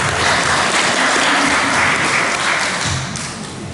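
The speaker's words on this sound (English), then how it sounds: "let's give her a big round of applause" A room full of people clapping steadily, a dense wash of applause that holds strong and then begins to taper off near the end.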